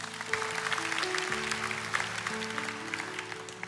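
A church congregation claps during a sermon, a continuous spread of many hands applauding under sustained organ or keyboard chords that play steadily beneath it.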